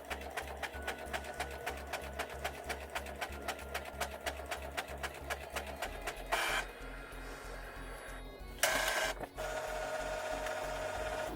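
A printer running close by, printing on sticker paper, its print head ticking rapidly and rhythmically, with two brief whirring paper-feed bursts and mechanical clunks.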